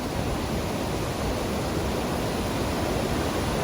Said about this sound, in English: it's an impressive falls. It's actually the smallest of the waterfalls on the track, but it's still a serious drop.